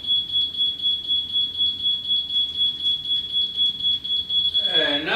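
A Bosch rotary laser level receiver beeps in a fast steady rhythm, a high pure tone pulsing repeatedly, with a voice briefly starting at the end.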